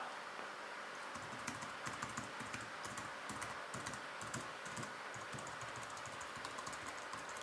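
Alcatroz Trilium keyboard keys pressed hard, giving a steady run of quick, close clacking keystrokes that carries on without pause and without any voices.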